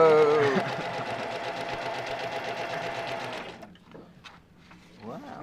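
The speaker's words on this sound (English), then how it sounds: "Go ahead and do a straight stitch, and then I'll teach you how to do a zigzag." Sewing machine running a straight stitch on fabric for a pot holder, a steady loud mechanical whir lasting several seconds, then stopping as soft talk follows.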